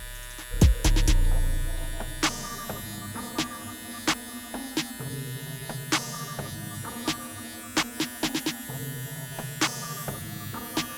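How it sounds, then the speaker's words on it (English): A Philips NT3650 nose trimmer runs with a steady close electric buzz while trimming nose hair, punctuated by frequent sharp clicks and taps throughout. "to trim your nose hair, you can put the trimmer inside your nose and rotate it slowly"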